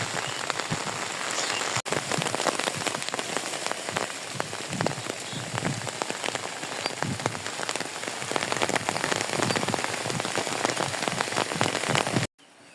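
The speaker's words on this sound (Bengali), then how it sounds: "তো মোটামুটি অনেক বৃষ্টি নামছে, এদিকে অনেক নামছে।" Heavy rain pours down steadily in a village, a dense loud patter of drops on surfaces that cuts off abruptly at the end.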